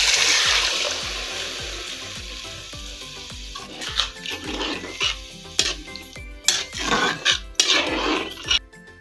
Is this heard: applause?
no